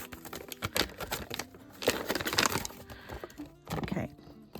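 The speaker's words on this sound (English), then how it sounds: "I'm just gonna get some scissors in there because that wasn't tearing nicely." Scissors cut open the plastic packaging of a witchcraft-themed subscription box, irregular crinkly snips and plastic rustles in uneven bursts, close and fairly loud.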